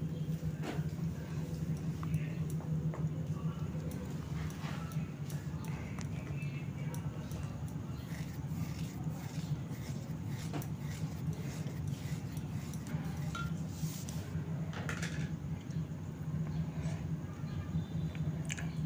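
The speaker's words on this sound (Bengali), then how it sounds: "দিয়ে ভালো করে মিশিয়ে নিচ্ছি" Paneer and cheese filling for bread pakora, thinned with a little water, being stirred by hand in a bowl, giving a steady soft squishing and scraping that runs close and continuous.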